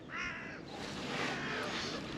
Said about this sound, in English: Birds are hooting.